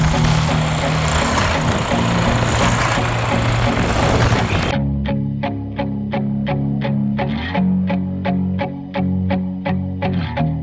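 A new Freightliner truck's engine roars loudly and continuously, then drops to a rhythmic, pulsing idle with regular repeating beats under a steady low drone.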